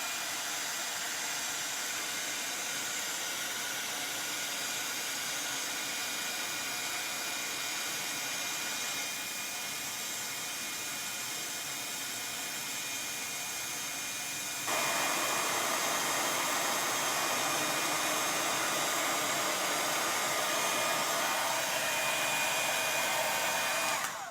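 A heat tool blows hot air onto an acetate stencil, giving a steady whooshing hiss that runs the whole time and grows louder partway through, with no talking.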